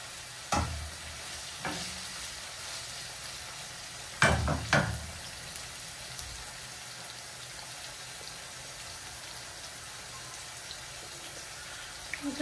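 Onion fries in a pan for a prawn dish with a steady, soft sizzle, broken by a few stirring clatters near the start.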